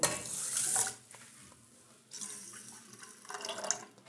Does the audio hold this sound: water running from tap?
yes